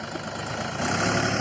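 Tractor engine running steadily at close range, a dense continuous mechanical drone that grows slightly louder toward the end, brief and with no talking.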